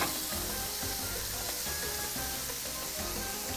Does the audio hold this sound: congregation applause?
no